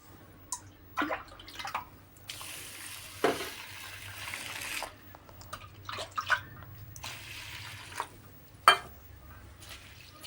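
Rice and mung dal being washed by hand in a bowl of water: irregular splashing, sloshing and dripping bursts, close and moderately loud, with no talking.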